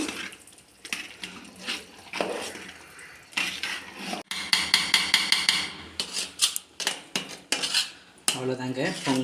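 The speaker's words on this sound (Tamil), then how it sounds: "நல்லா கலந்து விட்டுக்கலாம்." A spoon stirs pongal in a cooking pot, scraping and clinking against the metal in rapid, uneven bursts that grow busier and louder midway, close and alone.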